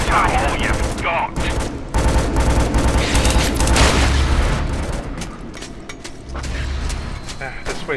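Gunfire in the co-op shooter Scourge Outbreak, with loud, dense bursts of rapid shots and booming impacts in a snowy level, steady and close, and players talking over the shooting.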